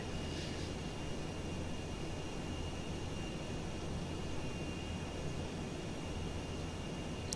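Aircraft engine in a video game, droning as the plane comes in to land on a ship, a steady broadband roar with a thin high whine holding level throughout, with no voices.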